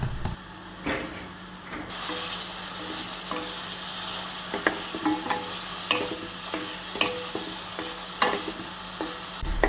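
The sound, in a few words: banana pieces sautéing in hot ghee in a pan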